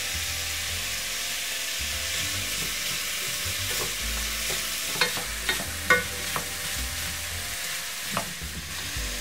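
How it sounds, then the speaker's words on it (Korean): Zucchini, minced garlic and onion stir-fry in perilla oil for Korean gangdoenjang, a continuous sizzle with a run of sharp spatula scrapes and knocks against the pan in the second half. "양파가 투명해지면 애호박 넣고 볶아주세요."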